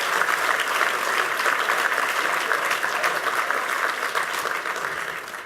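Audience at a school event applauding students, a steady full round of clapping from many hands that holds evenly and tapers slightly at the end.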